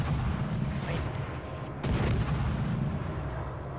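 Naval guns firing in World of Warships: Legends, heavy booming blasts under a dense rumbling battle soundscape, with a fresh loud salvo midway; a voice talks faintly.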